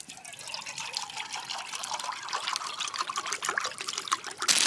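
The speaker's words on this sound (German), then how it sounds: "Aber ich werde jetzt erstmal ein bisschen Wasser kochen." Water trickles and pours steadily into a pot to be boiled for cooking rice outdoors, a close, continuous splashing stream that grows slightly louder toward the end, with no talking.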